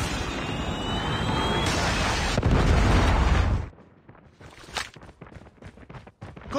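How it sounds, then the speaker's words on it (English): A Predator missile strike in Call of Duty, a loud sustained roaring blast that cuts off abruptly, followed by quieter scattered thuds and clatter. "Predator missile inbound."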